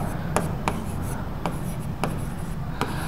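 Pen writing an English grammar sentence by hand on paper or a board, with short scratchy strokes in an irregular rhythm under a steady low background hum, close and fairly quiet.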